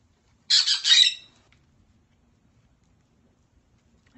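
Pet birds at home let out one short burst of harsh squawking near the start, loud and close, followed by near silence.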